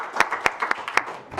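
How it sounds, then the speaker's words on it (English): A short burst of scattered clapping from a small group at a county fiscal court meeting, a handful of sharp claps spaced unevenly, moderately loud and without any talk. "So we'll give him a round of applause."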